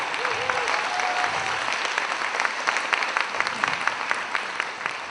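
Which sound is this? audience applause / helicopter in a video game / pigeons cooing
audience applause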